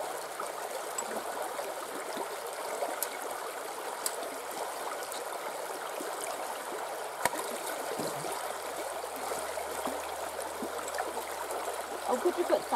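A high-water river along the Appalachian Trail rushes steadily and close by at a trail crossing, a continuous gurgling flow with small splashes throughout.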